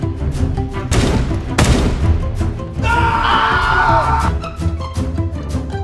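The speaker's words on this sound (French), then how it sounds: "J'ai entendu d'autres coups de feu et des cris." Loud bursts of Roblox game gunfire and blasts, with a harsh sustained noise in the middle, dense and chaotic throughout.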